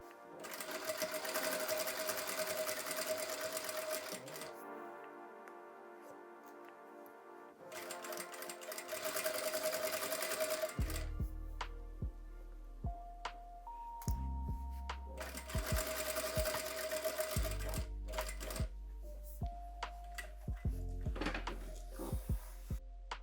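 A sewing machine stitches darts in thick fabric for a fitted vest, running in several steady bursts of rapid mechanical whirring with brief pauses between and some lower thumps from handling.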